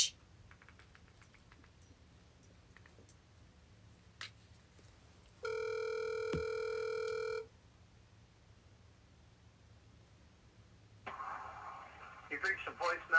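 A telephone rings during a prank call, one steady electronic ring burst of about two seconds standing out clearly over quiet line noise, with faint background clicks around it.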